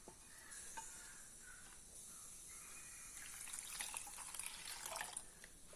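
Grated potato dropped into a bowl of water in a home kitchen, giving soft, steady watery sloshing and light splashes at close range that swell toward the end, with no talking.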